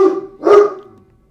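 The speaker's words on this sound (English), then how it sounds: "He's got a loud bark." A dog lets out two loud, close barks in quick succession, each one fading quickly into silence.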